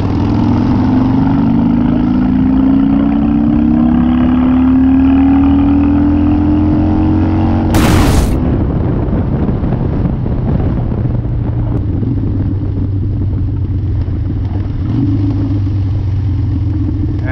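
A Harley-Davidson Dyna motorcycle engine pulls hard and steadily, its droning pitch rising through the gears, with one brief loud burst midway and constant wind rush over the microphone throughout.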